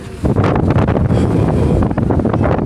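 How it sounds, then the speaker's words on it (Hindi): Strong wind on a hilltop buffets the microphone with loud, continuous roaring gusts and rumbling low-end bluster. No voices are heard. "यकीन जान जितनी हवा चल रही है"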